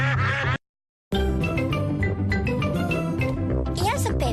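Cartoon ducks quacking in a Peppa Pig episode dubbed in Croatian, with repeated nasal quacks layered over music and animated character voices.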